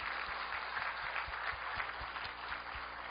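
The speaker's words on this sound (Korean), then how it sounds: "박수해." Church congregation applauds during a sermon, a faint, steady patter of many hands clapping with low thumps underneath, heard from a distance.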